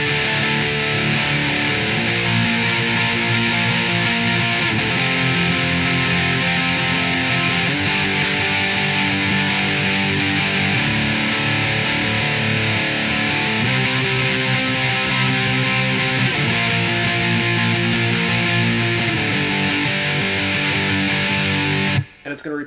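Distorted electric guitar plays the simple chorus riff of a metalcore song, loud, dense and sustained, with repeating chugging chord patterns running steadily for over twenty seconds before cutting off abruptly.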